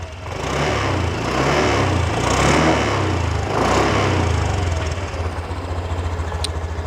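A 2022 Honda Genio scooter with an ACG starter idles close by, its small engine putting out a smooth, steady low hum that swells slightly before settling into an even putter, with no talking.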